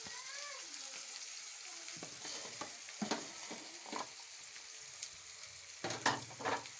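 Onions, dried and fresh coriander, and curry leaves fry in a pan with a steady sizzle, overlaid by scraping and stirring sounds and a few clinks.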